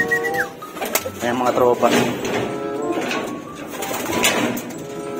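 Racing pigeons cooing and shuffling at the loft during a derby in Legazpi, Albay, with soft, repeated calls heard beneath someone speaking close by.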